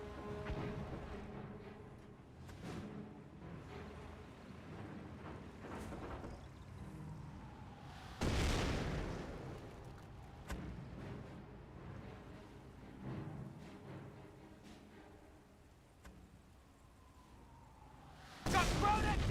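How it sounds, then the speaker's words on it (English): A mortar shell strikes a mortar team in Company of Heroes, a sudden loud explosive blast about two-thirds through a busy battle mix, followed by a second heavy burst at the end, with a caster talking over the action. "Direct hit there onto the mortar team."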